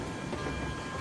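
A freight train rolls downhill too fast in the Railroads Online video game, giving a brief, continuous rumble of rail wheels and cars.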